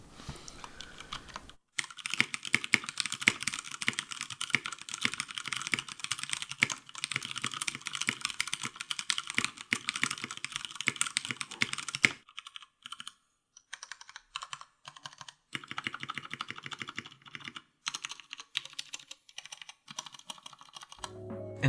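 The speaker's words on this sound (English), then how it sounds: "a little quick ASMR typing test, sound test of the Durgod Hades 68 with the Cherry MX Browns" Fast, steady typing on a stock Durgod Hades 68 mechanical keyboard with Cherry MX Brown switches, soft clacky keystrokes up close, with a brief pause midway before typing resumes.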